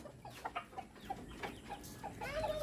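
Chickens give short, repeated clucks at close range, with soft rustling and quiet background noise between the calls.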